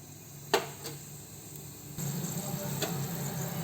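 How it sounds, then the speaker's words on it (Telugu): Cinnamon and cloves sizzle in a little oil in a pressure cooker, a steady low hiss with a couple of sharp crackles early on, then a fuller, louder sizzle settling in after the whole spices go in. "ముందుగా కుక్కర్ పెట్టి నూనె కొద్దిగా వేయాలి చెక్క లవంగాలు"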